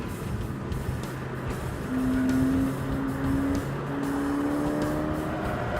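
A Ford Fiesta ST is driven hard on a race track, its engine droning loudly and steadily with rising tonal whine as revs climb and shifts occur, heard from nearby with constant road and wind roar.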